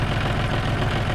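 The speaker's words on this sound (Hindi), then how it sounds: "क्योंकि ट्रैक्टर स्टार्ट है" A John Deere tractor engine idles close by in a steady low throbbing rumble with a regular pulsing beat, running alone without voices.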